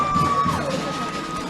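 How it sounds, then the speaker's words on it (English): Cheering crowd at a school hockey match in Sri Lanka after a goal, a loud, steady roar of voices with a high whistle tone near the start. "The crowd goes wild here."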